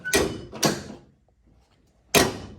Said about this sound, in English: opening and closing nice sounding doors.